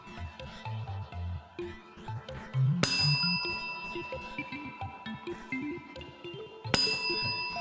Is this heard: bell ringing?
yes